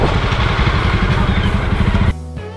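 A motorcycle engine idles loudly and close with a steady rumbling throb while bikes are parked, then cuts off abruptly near the end.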